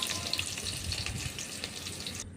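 Garlic sizzles steadily in a hot pan with onions for a Kannada-style fish curry, a dense close crackle with faint stirring scrapes, cutting off abruptly at the end.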